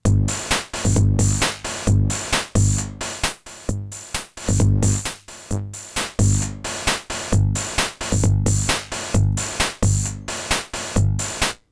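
A looping Roland 606 drum machine beat through two stages of distortion, with heavily distorted, crunchy kicks and snares, steady and driving throughout, with no talking over it.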